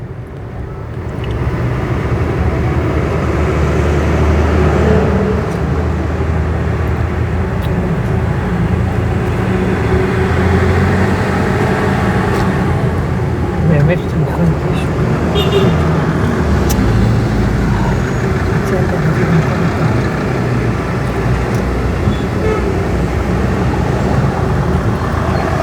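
A car driving into congested town traffic on Road 60 gives a steady, loud rumble of engine and road noise, with a faint hum of surrounding vehicles heard from inside.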